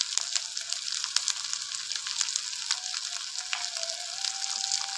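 Spiced chicken masala with curd sizzles as it fries in a pan over a clay stove, a continuous crackling hiss with scattered pops, close and moderately loud, no talking.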